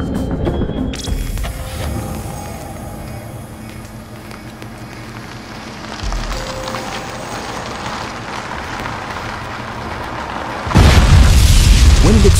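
Animated mine blast striking the underside of an armored vehicle fitted with a multi-layer blast protection system, heard as a low rumbling build-up that bursts into a loud, deep boom near the end.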